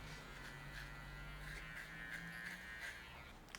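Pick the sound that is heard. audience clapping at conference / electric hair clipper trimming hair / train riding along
electric hair clipper trimming hair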